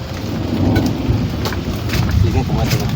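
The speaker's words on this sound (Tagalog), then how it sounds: "Grabing bigla. Grabing kulog." Thunder rumbles over steady rain pattering on surfaces during a fishing trip, a close, continuous storm wash with low rolls of thunder throughout.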